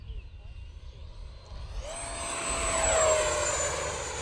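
Electric ducted fan whine from an FMS Dassault Rafale 80mm RC jet fitted with thrust tubes, rising from low hum to a loud steady high-pitched rush with a falling tone as it flies past.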